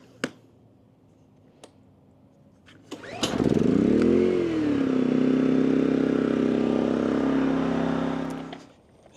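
A WEN 3600 dual fuel generator is pull-started with a single cord yank, its engine catching and revving up before settling into a steady, loud idle that runs for several seconds, then cuts off abruptly.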